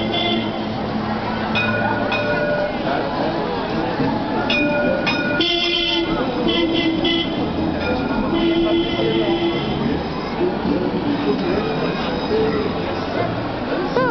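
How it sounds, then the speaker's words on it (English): Tram arriving at Place Masséna: a continuous low rumble and rail squeal with tonal hoots and bell-like tones, steady and fairly loud throughout, with a voice briefly heard. "tram's coming!"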